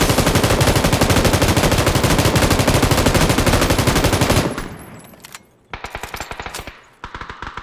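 Sustained rapid automatic M249 machine gun fire in a video game roars for several seconds, then breaks off into a few shorter bursts separated by quiet gaps.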